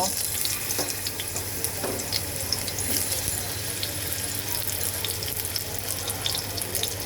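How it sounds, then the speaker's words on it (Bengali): Pointed gourd (potol) pieces fry in oil in a pan with a steady, close sizzle and scattered small pops, with no voices. "প্রথমে আমি পটলগুলো একটু ভেজে নেব"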